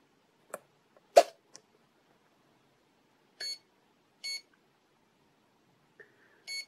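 A handful of short electronic beeps from a Radiolink AT10II RC transmitter's throttle cut warning sound in irregular bursts against near silence, with a few softer clicks and one slightly lower-pitched tone near the end.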